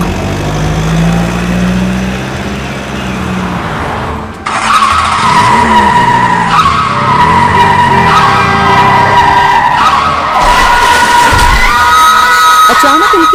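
Cars on the road: tires squeal in a long, loud skid with a strained engine and harsh scraping, close and dramatic, broken by a sudden jolt partway through.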